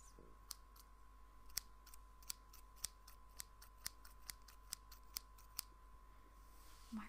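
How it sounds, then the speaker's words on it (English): Scissors cutting wrapping paper up close during gift wrapping, a series of about a dozen crisp, evenly spaced snips over a low steady hum, quiet and with no talking. "Scissors."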